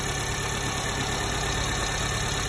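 A Subaru Sambar engine idles steadily during carburetor and timing tuning, a close, even mid-pitched hum with a faint rhythmic knock and vibration, no talk.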